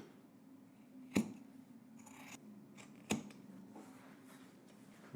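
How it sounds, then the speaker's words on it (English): Scissors snip fabric seam allowance on a sewn jacket, two distinct crisp cuts about two seconds apart with faint rustling between, close and quiet. "Let's go ahead and trim this down to about 3/8 of an inch, just a little bit."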